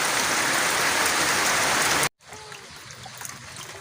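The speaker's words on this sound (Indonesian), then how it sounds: "Hujan gede." Heavy rain pours down as a dense, loud hiss of drops striking surfaces nearby. The sound cuts out abruptly, then comes back quieter and farther off.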